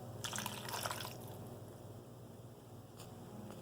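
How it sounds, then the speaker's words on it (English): Water is poured into a slow cooker holding onions, a brief splashing trickle up close that fades into a faint, steady background hum; quiet overall. "And then we're also going to put in a little bit of water."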